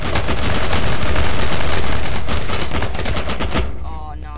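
Rapid auto pistol fire in People Playground comes as a dense, loud, continuous stream of shots for about three and a half seconds, then stops abruptly into quiet.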